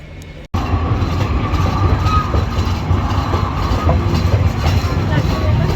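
The Nilsagar Express at Jamuna rail bridge station, heard from inside the train, gives a loud, steady rumble and rattle of carriage noise after a brief cut at the start.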